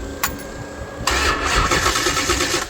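A Mopar 408 small-block with Speed Master heads turns over after a short click and catches, settling into a loud, steady rumble close by.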